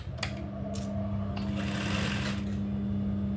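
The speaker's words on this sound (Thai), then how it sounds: "เริ่มเย็บเลยค่ะ" A sewing machine with a standard presser foot stitches the hem along a fabric edge: a steady, close mechanical whir with a fast needle rhythm, running alone without talk.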